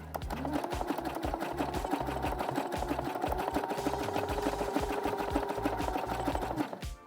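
A sewing machine stitches a zigzag seam onto elastic, its needle clattering in a fast, even mechanical rhythm for several seconds, close and loud, before stopping.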